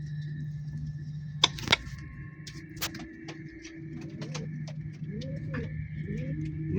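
Pigeon coos in a low, steady drone from an adult male calling a young bird, continuing throughout at moderate distance, with a few sharp clicks and faint chirps over the top.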